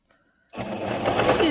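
A Singer sewing machine stitches fabric for a bag, starting suddenly after a short near-silent moment and then running as a steady, dense mechanical whir with a voice audible over it.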